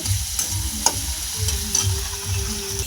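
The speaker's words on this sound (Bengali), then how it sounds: "পেঁয়াজটা দিয়ে দিয়েছি, টমেটোটা দিয়ে দিয়েছিলাম, ভালো করে এটা ভাজা হবে লাল লাল করে" Chopped onion and tomato fry in a pan, a soft continuous sizzle broken by the scraping clicks of stirring, with a faint steady tone in the background and no talking.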